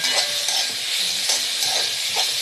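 Curry with chilli and turmeric powder being stirred in a hot pan, a steady sizzle of frying with soft scraping strokes of a spoon repeating throughout, close and continuous.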